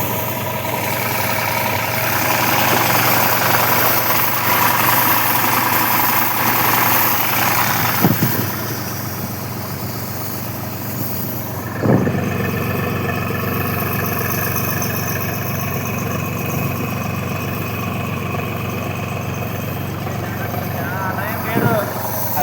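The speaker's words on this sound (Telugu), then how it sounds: "ట్రాక్టర్ మీద కూర్చున్నా ఫ్రెండ్స్ ట్రాక్టర్ ఉంది" A tractor engine idles and chugs steadily, heard from someone sitting on the tractor on the way to a pigeon pea field, a constant low rumble with a few brief clunks, while people talk over it.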